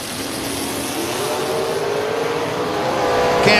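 The Hurricane Dragster thunders down the strip on a drag racing run, a loud engine note climbing steadily in pitch as it accelerates, with a brief burst near the end.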